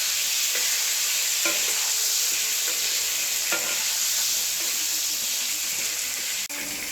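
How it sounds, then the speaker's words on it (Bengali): Marinated potatoes sizzling in hot oil after cashews were fried, stirred with a spatula that scrapes the pan in irregular clicks over a steady, close frying hiss. "কাজু বাদাম ভাজার পর আমরা মাখানো আলু তেলের উপরে ছেড়ে দেব। ছেড়ে দিয়ে আমরা আলুটাকে সুন্দর মতো নাড়তে থাকবো।"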